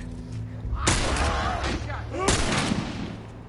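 Two loud, close gunshots from a video game, spaced about a second and a half apart, each with a sharp attack and a brief reverberant tail over a low background hum.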